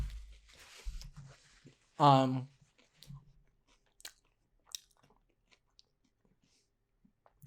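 Someone bites into thick, crunchy battered fried onion rings from Hungry Bear, with one sharp, loud crunch followed by soft, sparse chewing clicks in a quiet room, and a little talk at the start.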